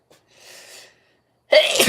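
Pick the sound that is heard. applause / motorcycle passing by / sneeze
sneeze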